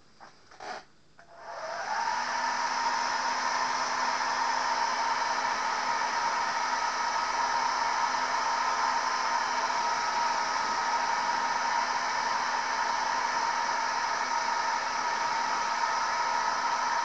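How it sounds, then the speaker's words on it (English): A hair dryer drying paint on a painted wizard miniature switches on after a brief rustle, then blows with a steady, close, even whoosh and hum until the end. "I'm just going to quickly dry it with a hairdryer"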